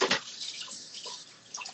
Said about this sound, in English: I hear my soup bubbling away.